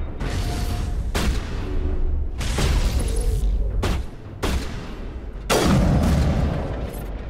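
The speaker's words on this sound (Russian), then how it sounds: "Мощные пушки." Powerful guns fire in Mass Effect Legendary Edition, blasting in heavy bursts separated by brief gaps, loud and close, each volley followed by a short decaying tail.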